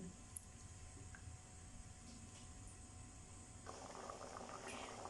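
Plum chutney simmering in a pot on the stove gives a faint, continuous bubbling hiss, quiet and close, with soft popping that grows slightly busier toward the end.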